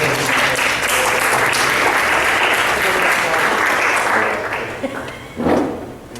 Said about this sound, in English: He deserves your applause on this because he did a great thing.